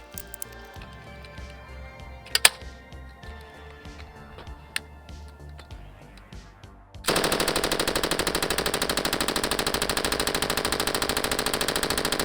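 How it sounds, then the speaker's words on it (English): M249 SAW machine gun firing a long unsuppressed 100-round burst on a suppressor test range, a loud, rapid, unbroken stream of shots that begins after several seconds of quieter handling noise and a couple of sharp clacks. "So we're going to fire a 100-round burn, unsuppressed."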